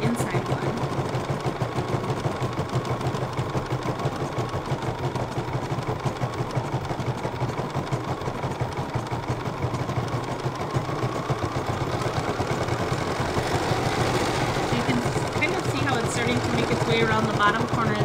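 An embroidery machine stitches the inside outline of a design, a steady, fast mechanical hum and rhythmic needle chatter that runs unbroken throughout, with a voice talking over it.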